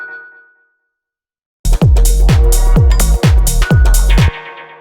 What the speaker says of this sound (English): This one is a pretty similar little chord stab.